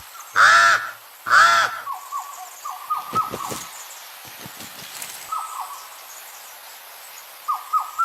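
Pied crow calling in open forest, two loud harsh caws close by, followed by fainter calls and clicks scattered through the rest.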